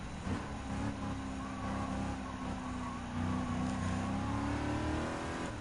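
A Lamborghini Countach engine roars in Gran Turismo 7, holding a loud, steady drone with rising revs through a gear change, with no voices over it.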